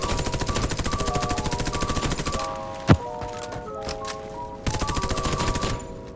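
An ACR CQB rifle in the shooter game Warface fires rapid automatic bursts, pauses for a sharp single thump and scattered shots, then resumes fast continuous fire.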